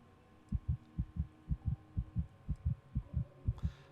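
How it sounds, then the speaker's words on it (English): A steady heartbeat thumps while resting on a bed in the Starfield video game, about a dozen evenly paced double beats over a low hum, close and clear with no talk. "why am I hearing my heart beating?"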